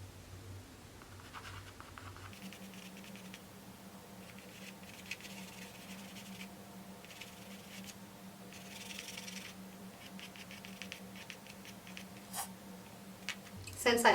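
A charcoal pencil drawing fur details on paper, soft scratchy strokes in short repeated bursts, close and quiet under a steady low hum.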